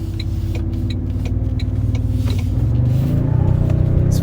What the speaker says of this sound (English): Hear those turbos just spool up.